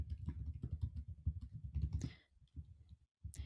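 Someone types on a computer keyboard, close and quiet. The keystrokes come in a quick, uneven run, break off for a brief pause, then resume.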